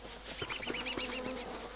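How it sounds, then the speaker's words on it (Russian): Bees buzzing in the survival game Don't Starve, a steady close insect drone with several wavering wingbeat tones overlapping for under two seconds, no voices. "а потом пчелами его замесим"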